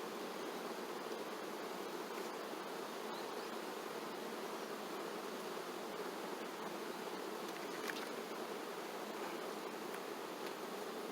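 Dense, steady buzzing of a large mass of honeybees around open hive frames during a colony inspection, continuous and fairly close, with no voices.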